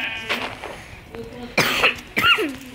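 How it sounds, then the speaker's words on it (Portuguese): Sheep in the Minecraft video game give two short, rough bleats close together near the end, after a quieter stretch with a faint earlier call. "Até peguei umas ovelhas que tinha ali"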